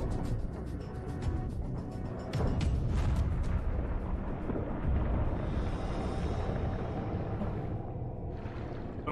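Rumbling explosions and churning noise from the video game Far Cry 3, a loud continuous low roar with swelling blasts that fill the whole stretch, no talk over it.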